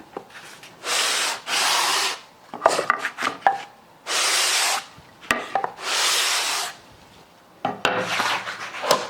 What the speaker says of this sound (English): I'm going to make like a pass or two with the block.